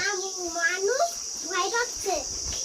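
An insect keeps up a thin, steady high-pitched chirring drone in a home kitchen, running beneath a voice and other speech throughout.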